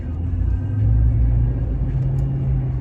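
A Toyota Tundra pickup with a stock air filter and a rubber intake airflow accelerator part pulls away under throttle, giving a loud, close, continuous low engine rumble that swells slightly in the middle.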